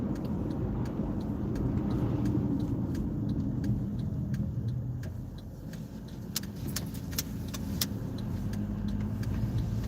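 A car driving along a road on the way to a car wash, with steady engine and tyre rumble throughout and light rattles and clicks from inside the cabin.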